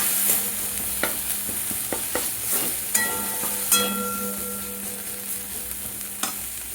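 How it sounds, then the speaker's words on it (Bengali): Snail curry spices with cumin powder fry in a pan with a steady sizzle while a spoon stirs and scrapes, giving several sharp clinks and taps against the pan at irregular moments, close up. "এটা ভাজা হয়ে গেছে, আমি এবার সামান্য জিরে গুঁড়ো দিচ্ছি। এটা আপনারা দিতেও পারেন এবং নাও দিতে পারেন। ভালো করে মিশিয়ে নিচ্ছি।"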